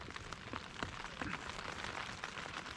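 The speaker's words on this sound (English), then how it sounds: "It's still raining, and it's not going to stop until, I don't know, sometime tomorrow afternoon." Rain falls steadily at night on a backpacking trail in Allegan State Game Area in March, a soft, even patter on nearby surfaces with scattered drips, faint and with no voices.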